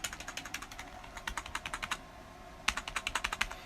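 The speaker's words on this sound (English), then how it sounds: "is my keyboard still responding? Let me see." Fingers type on a computer keyboard in quick, even bursts of crisp clicks close to the mic, pausing briefly before another run of keystrokes.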